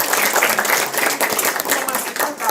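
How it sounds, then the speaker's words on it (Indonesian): Applause from an audience at an Indonesian community seminar, dense steady clapping held throughout at moderate loudness, with voices mixed in beneath it. "Tepuk tangan dong"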